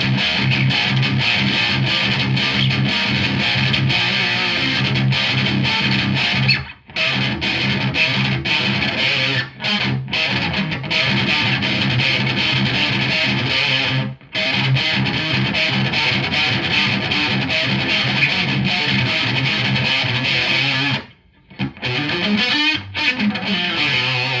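Electric guitar played through a Revv G4 distortion pedal with the gain at halfway, thick saturated chords ringing loud and continuous, with a few brief stops between phrases.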